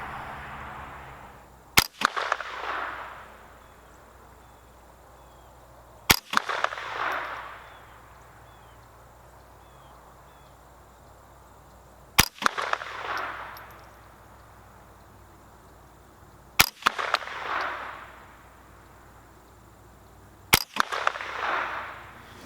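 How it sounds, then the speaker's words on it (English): Five sharp rifle shots from a Savage A22 FVSR semi-automatic .22, fired at a steady deliberate pace several seconds apart, each crisp crack followed by a short ringing tail, outdoors with no talking. "we're going to take another 5-shot group at the upper right-hand target and see how that does"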